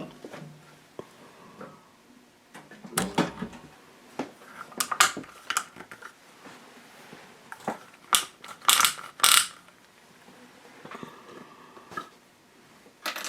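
A Techsew 4800 Pro sewing machine stitching toward a side seam gives off irregular bursts of mechanical clatter and ticking, fairly quiet and close, with no talking.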